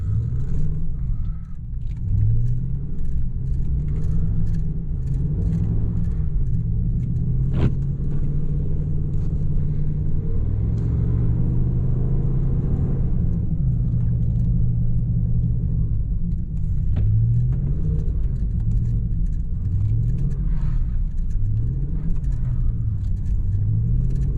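A Ram pickup truck drifts with traction control switched off, its engine rumbling steadily and rising and falling in pitch through repeated revs over about twenty-four seconds, with no talking.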